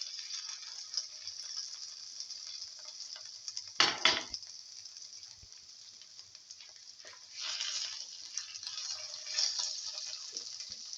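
Okra pieces dropped into a hot pan, a sharp burst of sizzle near the start of a faint, steady frying hiss that swells again briefly later.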